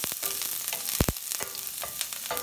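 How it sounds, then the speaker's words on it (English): Chopped garlic frying in a hot pan, a close crackling sizzle broken by sharp clacks as a utensil stirs it. "so we're gonna just toss in chopped garlic. Give it a quick stir."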